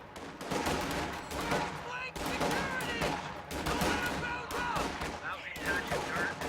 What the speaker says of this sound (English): the grenadiers are firing at riflemen in the house